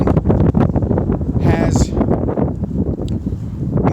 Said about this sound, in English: Oh, wow, it's windy.